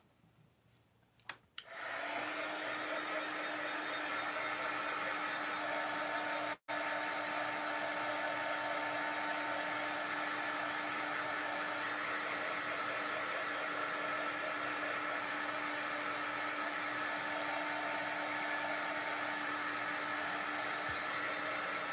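Hair dryer blowing continuously at close range to dry a layer of an art piece, a steady loud whoosh after a brief click on, with one short cut-out midway.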